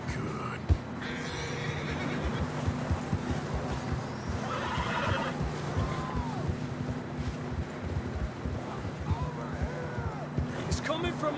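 Horses whinny and neigh in the Red Dead Redemption 2 video game, with hooves clopping and wind blowing over rough outdoor terrain while a voice speaks at moments.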